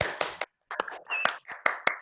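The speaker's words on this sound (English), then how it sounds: "With a huge round of applause, let's welcome Toastmaster Mohammed Rashid." A small club meeting audience of Toastmasters applauding to welcome a speaker, a short burst of close, uneven hand claps with a brief gap.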